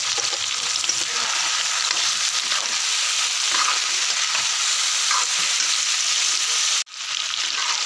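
Mutton and potatoes fry in a pan with onions and spices, giving a continuous close sizzle with occasional stirring and a brief clatter near the end.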